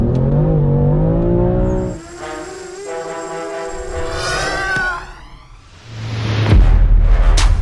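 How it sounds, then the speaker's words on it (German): A BMW M4 engine rumbles and revs up through rising harmonic sweeps as the car pulls off, easing back before a deeper low roar returns, loud and close with no talk. "Jetzt fahre ich erstmal kurz auf den kleinen Platz"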